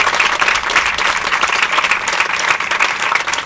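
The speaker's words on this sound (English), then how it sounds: "let's give them a big round of applause for that commitment" Loud, sustained applause from an audience at a groundbreaking ceremony for an animal adoption center, steady clapping filling the whole stretch without talk.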